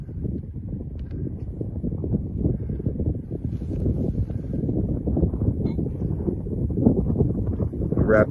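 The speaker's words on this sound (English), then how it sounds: "that's what happens when it's cold and windy" Strong gusting wind sweeps across frozen Moosehead Lake during an ice fishing trip in gusts up to 50 mph, buffeting the microphone with a heavy, continuous low rumble that swells and surges.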